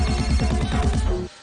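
A mobile phone ringtone for an incoming call sounds in a Hindi action film scene: a loud, close, warbling electronic melody that repeats in quick regular pulses for over a second, then cuts off abruptly, with no voices.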